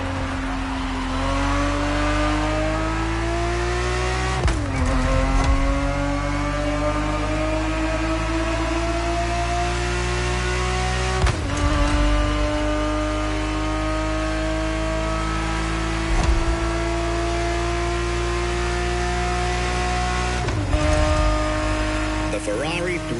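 Ferrari 365 GTB4 engine in The Crew Motorfest, loud and steady, climbing through repeated gear shifts with short dips between rising pulls, heard alone with no talk.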